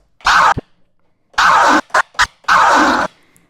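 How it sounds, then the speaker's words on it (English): Turntable scratching in a rhythmic pattern: a long scrubbing stroke, two quick chirps, then another long stroke, loud and close. "if I'm doing a particular scratch pattern that sounds like this"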